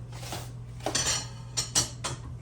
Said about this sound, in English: Let me get this skillet off the burner.